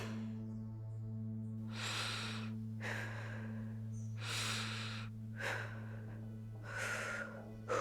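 A character in The Walking Dead video game takes slow, deliberate breaths, several audible inhale and exhale cycles over a steady low electrical hum.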